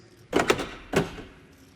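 A 2019 Mercedes-Benz G-Class door locking: a quick double mechanical clack followed by a single heavier thunk, close up, with a faint background hum and no voices.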